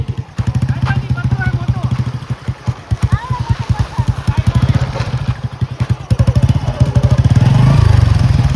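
A motorbike is ridden down toward a riverside family camping spot, its engine puttering in a steady pulsing beat that swells near the end, with people talking over it.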